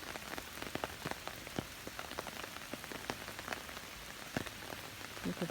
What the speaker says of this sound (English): It's peaceful just listening to it rain and looking at all the beautiful flowers.